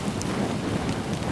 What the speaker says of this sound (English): The rain started coming